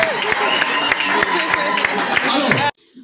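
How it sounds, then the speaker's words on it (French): Crowd at a religious gathering cheering and clapping, a loud and steady wash of applause and shouts that cuts off abruptly near the end. "C'est par des acclamations et des cris de joie que l'assistance a manifesté sa joie"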